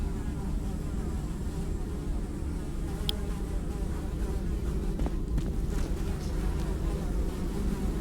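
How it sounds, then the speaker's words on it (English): Flies buzz steadily in a foul game latrine, a dense close drone layered over a low rumbling wash, with a few brief whiny passes rising above the hum. "Despite the buzzing flies"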